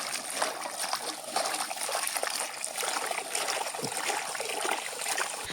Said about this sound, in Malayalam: അപ്പോൾ നമ്മൾ കപ്പയെല്ലാം കട്ട് ചെയ്ത് വെച്ചിട്ടുണ്ട് ഇപ്പൊ നല്ല രീതിയിൽ കഴുകിയെടുക്കുകയാണ്